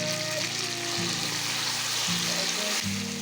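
Chicken with capsicum sautés in a pan, a loud continuous frying sizzle with a low background hum that shifts in steps, no voices heard.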